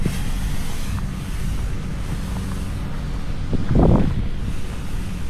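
Wind gusting against the microphone in a low, steady roar, with a brief louder buffet near the end.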